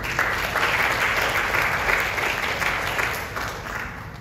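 Audience applause at a business seminar, a steady wash of many hands clapping throughout, fairly loud and continuous, tapering slightly toward the end with no talk over it.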